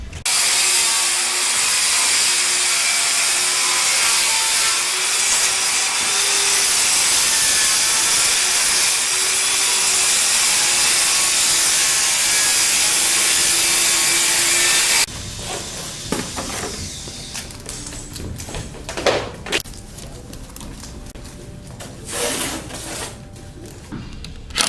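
A hand saw roughly hacking through a scribed ring cut for a two-layer ceiling ellipse, its strokes loud and close; the first fifteen seconds are masked by a steady machine-like hiss, then separate rasping strokes and knocks follow.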